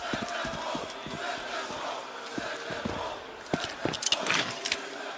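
Arena crowd at a Counter-Strike major quarterfinal in Budapest, a steady roar of cheering and shouts that swells louder near the end, mixed with sharp in-game clicks and gunfire-like bursts.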